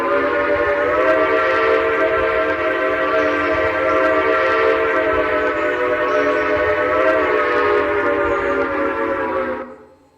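A steam or early diesel locomotive horn in a railroad video game, a single loud, sustained chord held steadily close up for about nine seconds before cutting off, with no talk over it.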